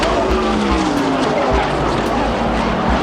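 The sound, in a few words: stock race car blowing a tire and crashing at Talladega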